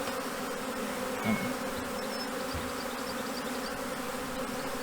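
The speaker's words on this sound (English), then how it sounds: "there's still quite a few bees here" Steady, dense buzzing of many bees fills the whole stretch, close and continuous, with no voices.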